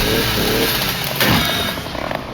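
A chainsaw engine buzzes loudly and steadily in the video game Resident Evil Requiem, its rough motor drone filling the clip before tapering slightly at the end.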